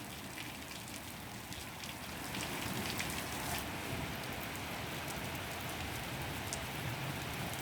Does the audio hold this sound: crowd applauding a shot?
no